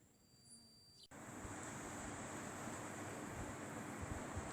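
Heavy rain pours outside, a dense, steady broadband roar that starts abruptly after a quiet second and then continues unbroken at an even level.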